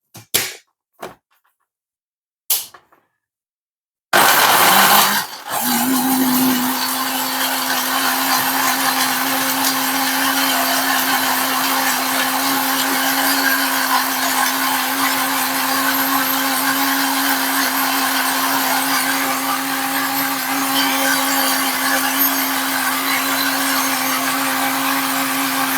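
An oat smoothie with honey being made in a kitchen blender: a few clicks and knocks as the lid goes on, then a loud, steady motor whine that runs on for about twenty seconds.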